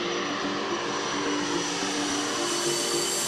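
Steady, loud drone of a Canadian North aircraft's engines and propellers fills the cabin as it flies a glide slope approach down to the runway, with a constant low hum throughout.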